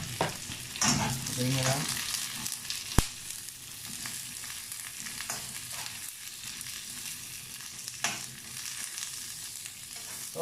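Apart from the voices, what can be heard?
onion, garlic and chili frying in a pan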